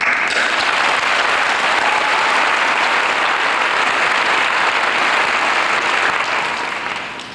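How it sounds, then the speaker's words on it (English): Sustained, loud applause from an audience at a graduation ceremony, dense clapping throughout that tapers off slightly at the end. "all of the graduates will now join me in applauding all of you"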